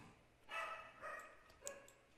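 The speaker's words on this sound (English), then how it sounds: "You can hear my dogs in the background." Dogs barking in the background of a home room: three short, faint yips or barks spaced about half a second apart, distant and thin, with no talking over them.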